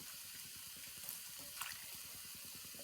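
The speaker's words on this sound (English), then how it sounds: "I'm just going to ladle it in here until it's the consistency that I want" Reserved pasta water ladled into a pan of sauce makes a steady, close liquid pour and trickle that runs continuously without any talk.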